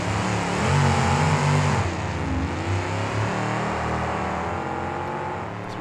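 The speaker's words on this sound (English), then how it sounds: "And great start out of both trucks." Two monster trucks launch off the line in an arena drag race at a Minneapolis monster truck show, engines roaring loud and close, rising briefly in pitch and then holding a heavy, sustained drone.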